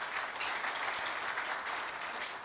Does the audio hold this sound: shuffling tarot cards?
no